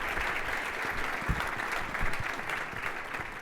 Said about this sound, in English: Please give me a warm round of heartfelt applause for Pascal.